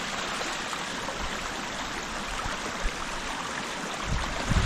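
Running water at a rural water source in the Philippines: a steady, even rush of flowing water that goes on throughout with no voices, growing slightly fuller near the end.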